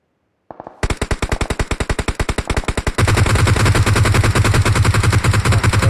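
PUBG Mobile automatic gunfire, close and loud: after a brief quiet start, one weapon fires a steady rapid string of shots, then a second heavier stream of fire joins in and runs dense to the end.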